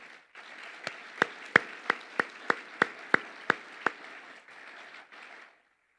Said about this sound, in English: I'd like to kind of give them a round of applause